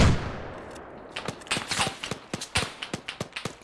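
A grenade launcher fires in the video game Arma 3, with one sharp report at the start followed by a string of quick, crisp thumps and pops from the battle, with no talk over them.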